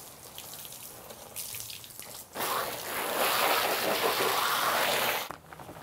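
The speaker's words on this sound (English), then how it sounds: "let's hit it with some water and see what happens" Water sprays steadily onto a Corvette car cover for a few seconds, a broad hissing splatter that starts abruptly and cuts off, with quieter dripping before.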